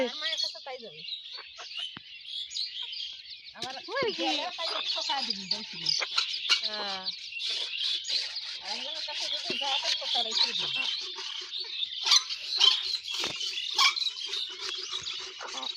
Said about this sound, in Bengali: কত মুরগির বাচ্চা রে বাবা